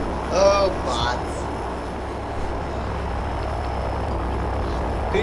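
An airplane engine in Left 4 Dead 2, a continuous droning roar running steadily beneath a short burst of voices near the start.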